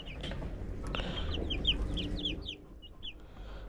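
Young chicks cheep and cluck in a small cage in quick, high chirps over a low background hum, several calls overlapping at close range.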